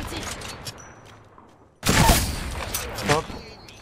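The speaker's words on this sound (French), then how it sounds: "il y a une autre escouade qui me tire dessus" Gunfire from another squad in Apex Legends erupts suddenly after a quieter stretch, a loud burst of rapid shots followed by a few more cracks, with someone talking over it.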